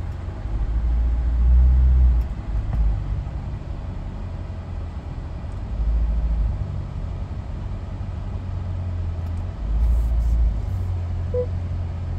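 A 2022 Chevrolet C8 Corvette with a failing transmission rolls along with a low engine rumble that swells and fades in a few surges over steady cabin noise, heard from inside the car.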